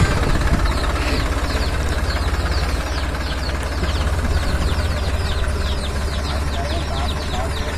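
A tractor engine idles and runs in a continuous low, knocking rumble, loud and close, with voices talking over it.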